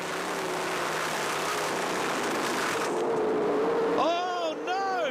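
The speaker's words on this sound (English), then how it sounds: "Have a listen to this awesome engine." Onboard sprint car racing engine roaring continuously at high revs, a steady loud drone with pitch rising and falling as it shifts and accelerates.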